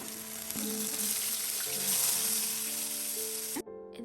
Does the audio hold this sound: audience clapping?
no